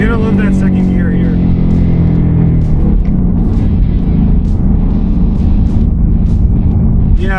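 A Ford Mustang pulling hard through second gear, a loud throaty engine roar that rises and holds from inside the car, with a person talking over it.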